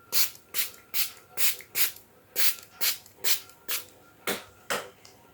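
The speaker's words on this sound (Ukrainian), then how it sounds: "І отак все оприскую." Hand spray bottle misting orchid plants and their moss, about a dozen short, sharp hissing spritzes in an even rhythm, close and clear with brief pauses between.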